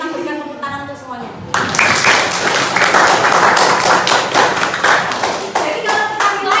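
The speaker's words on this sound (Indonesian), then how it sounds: "mari kita berikan tepuk tangan untuk semuanya" A classroom group of students and teacher breaks into applause, dense overlapping hand claps swelling quickly and sustained at full strength, with voices calling out over the clapping near the end.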